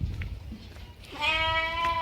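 Goats on a Gujarati farm with cattle nearby; after a second of low background rumble, one loud, close, wavering bleat rings out and holds for almost a second.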